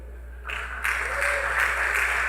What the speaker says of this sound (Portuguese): Você merece uma salva de palmas.